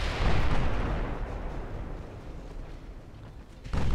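Naval gunfire from warships in the video game Ultimate Admirals: Dreadnoughts: a sustained, heavy rumbling roar of cannon fire that swells early, slowly fades, then ends with a fresh loud boom.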